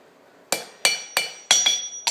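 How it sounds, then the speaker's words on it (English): A hammer strikes a cheese knife blade while forging its bevels, giving five sharp metallic blows at a steady, slightly quickening pace, each ringing briefly before the next, with no voices. "when you start hammering in your bevels, it's going to cause that blade to kind of angle out"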